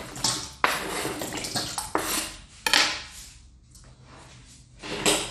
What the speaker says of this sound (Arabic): خديت هنايا واحد الكاسرونه اللي درت فيها الماء، وغادي ندير فيها البطاطا ديالي.